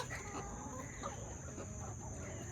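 Chickens cluck softly while pecking at a cabbage hung on a rope, a steady murmur of farmyard fowl sounds close by with no talking.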